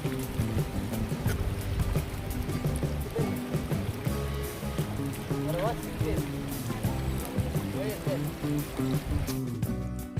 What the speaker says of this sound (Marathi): साबळेवाडीच्या पाठीमागे लपलेला हा टकोरी धबधबा